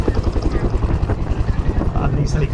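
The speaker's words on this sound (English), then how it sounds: "If you are of a certain age, you probably recognise this helicopter from the TV series MASH" A Korean War-era helicopter of the kind from MASH flying a display at the Manchester Airshow 2015, its steady rotor thump chopping rhythmically and loud throughout, with wind buffeting the microphone.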